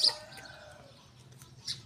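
A new breeding rooster on a poultry farm gives a few faint clucks near the start, then fades under low background hiss with a brief chirp near the end.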